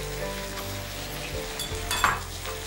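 Chopped onions, cut into small square pieces, hit a hot frying pan and sizzle steadily up close, with brief stirring and scraping noises partway through.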